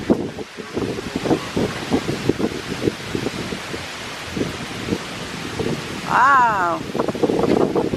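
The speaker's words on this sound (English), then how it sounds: "Getting some windy." Wind blowing on a windy day, a rushing gusty noise buffeting the microphone and rustling nearby, rising stronger toward the end, with people talking over it.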